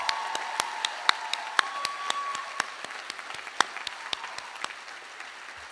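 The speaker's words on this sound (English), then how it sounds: "Round of applause for the staff." Applause from a college commencement crowd thanking the staff, a broad, even wash of many hands with a few sharper nearby claps, moderately distant and sustained throughout.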